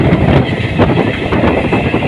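An EMU local train rushes through Deulti station without stopping, with a loud, steady rumble and rhythmic clatter of wheels on rails, no voices.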